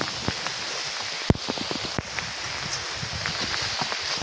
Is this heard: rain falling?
yes